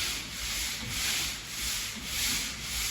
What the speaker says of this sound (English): I'm not really trying to sand down into the wood. I'm just trying to kind of take the high spot off the finish.